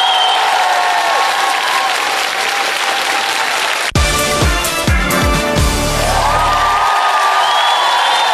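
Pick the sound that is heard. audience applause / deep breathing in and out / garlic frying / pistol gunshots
audience applause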